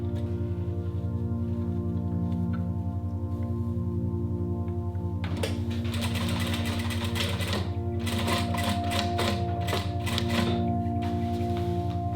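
A sewing machine stitches a Christmas stocking, its motor humming steadily before rapid rattling bursts of needle strokes begin about halfway through, close and continuous.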